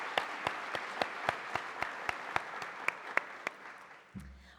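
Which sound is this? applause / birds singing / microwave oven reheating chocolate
applause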